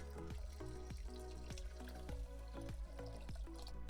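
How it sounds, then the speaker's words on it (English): Water splashes and trickles into a pot of buckwheat for cooking, a continuous quiet pour broken by light drips and knocks, with no speech. "Now add water for cooking."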